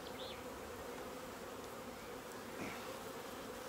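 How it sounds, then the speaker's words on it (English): Honey bees hum in a steady, dense drone from an open hive, close and continuous, with no voices over the buzzing. "There'll be a lot of bees here."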